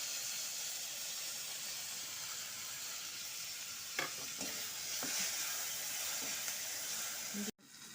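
A steady sizzle as bean paste fries in a hot pan with browned onions, occasional stirring clatter, continuous broadband frying noise throughout with a brief knock near the end.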